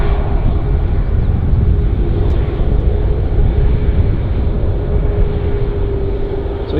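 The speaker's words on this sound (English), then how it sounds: "So yeah, we've got Air France inbound." An Air France airliner arriving at Vancouver Airport makes a steady, loud roar of jet engines that stays constant throughout, heard from fairly close with no talking.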